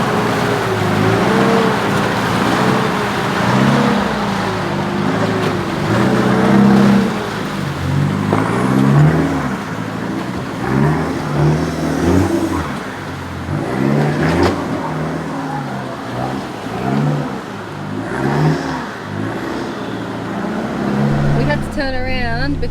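A Mitsubishi Triton 4WD on a first-time off-road trip engine drones and surges unevenly as it turns around and leads the way, with people talking throughout over the steady motor noise.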